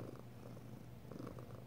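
A cat purring softly and steadily at close range, a low rhythmic rumble that carries on without pause and with no voices over it.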